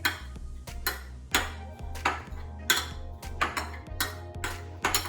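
Spices like crushed dry coriander, cumin powder, coriander powder and turmeric being mixed in a metal bowl with a spoon for chicken seekh kabab, giving repeated clinking and scraping strokes that ring briefly, about a dozen in a steady rhythm without speech.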